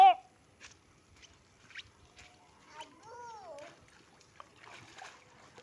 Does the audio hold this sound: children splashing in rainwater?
yes